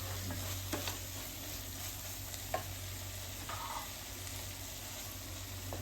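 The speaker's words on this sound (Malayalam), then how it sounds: "ഇനി നമുക്കിതിലേക്ക് ബ്രെഡ് ഇട്ടിട്ട് ഇളക്കാനായിട്ട്" Bread stirred into upma in a pan, a soft continuous sizzle with a few faint scrapes and taps from the stirring, quiet and close, with no voices.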